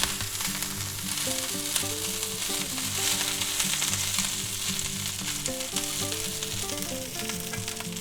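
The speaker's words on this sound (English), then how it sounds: "we're just going to go ahead and add our broccoli. And we're going to stir that around." Broccoli being stir-fried in a hot pan for a spicy chicken and mushroom dish gives a constant hiss of sizzling, mixed with a steady tonal background melody, no talk.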